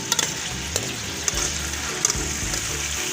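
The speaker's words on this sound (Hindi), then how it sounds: "प्याज फ्राई हो गया" Onion frying in oil during village-style chicken feet and tinda cooking, a steady close sizzle with a few sharp spatula clinks and scrapes against the pan, no voices.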